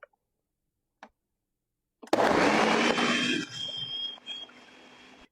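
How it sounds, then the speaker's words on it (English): A kitchen blender whirs loudly as it purees soaked almonds with water for homemade almond milk, starting abruptly after a couple of faint clicks and settling into a steady, slightly lower drone. "give this a quick blend."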